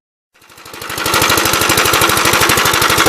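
A 1950s engine that had been flooded, with freshly adjusted valves, starts up and runs loud and close with a rapid, steady chugging pulse, and no voices.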